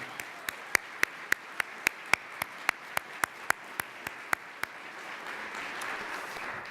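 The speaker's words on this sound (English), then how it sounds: "let's give Dana a big round of applause right now." Sharp, evenly spaced claps ring out one after another, a steady rhythm of about two per second, fading into a low crowd murmur at the end.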